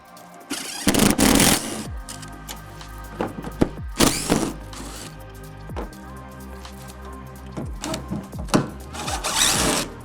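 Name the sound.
power tool gun removing tonneau cover bolts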